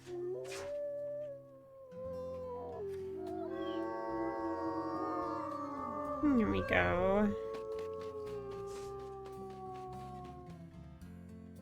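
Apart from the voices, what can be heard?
wolf howl in the video game WolfQuest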